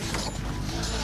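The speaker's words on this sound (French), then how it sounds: "Tu veux bien me le tenir pendant que je le visse?" A part is screwed on during a custom build, giving a brief, continuous mechanical creaking and ratcheting that sounds close and steady.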